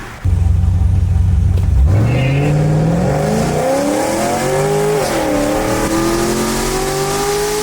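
A cammed police car with straight-piped exhaust, carrying three people, idles with a deep lumpy rumble, then revs up loudly through rising gears as it accelerates hard, staying close and roaring throughout.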